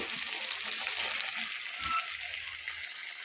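Korra meenu fish pieces fry in oil with a steady broadband hiss of sizzling, close and constant, with a few soft low bumps from the pan underneath.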